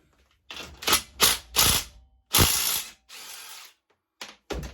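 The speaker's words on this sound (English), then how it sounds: "we'll loosen the top bolts off on the suspension" Close ratchet clicking in short bursts as it loosens the top suspension bolts on a pit bike under restoration, several separate spells of rapid pawl clicks separated by pauses, with no talking.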